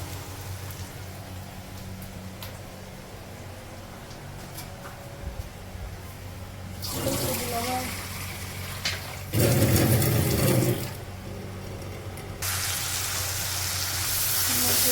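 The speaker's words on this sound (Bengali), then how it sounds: "এর মধ্যে অল্প একটু জল দেব।" Water splashes into coriander and cumin masala frying in a pan, giving bursts of loud hissing sizzle that flare and fade over steady background frying, close by with no talk.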